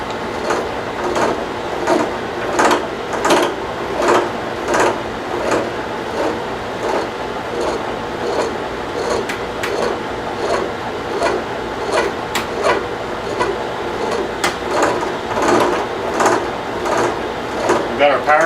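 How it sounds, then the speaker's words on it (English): A milling machine slowly cutting a gear on power feed putters along in a steady rhythmic chatter of regular clicks over a low mechanical hum, with someone talking over it throughout. "Just listen to your machine as it putters along."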